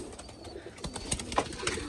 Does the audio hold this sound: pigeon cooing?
yes